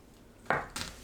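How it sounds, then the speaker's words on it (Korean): A kitchen knife cuts tofu into bite-size pieces for doenjang soup, giving two quick, close chops on a cutting board about a quarter second apart, with no talk. "두부를 한입 크기로 썰어줍니다."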